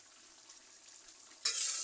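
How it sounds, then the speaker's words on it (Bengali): Spiced duck meat is stirred in a hot pan, with a faint scraping stir followed by a sudden loud burst of sizzling frying near the end. "মাংসগুলো দেওয়ার পরে সুন্দরভাবে মশলার সাথে যাতে মিশিয়ে যায় সেভাবে নাড়াচাড়া করতে হবে।"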